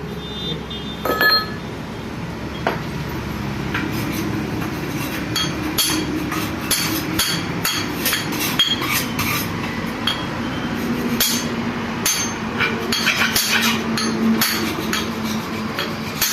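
Metal hammer blows while fitting a Massey Ferguson tractor gearbox, a series of sharp, irregular clanks and clinks close by over a steady workshop hum, no talking.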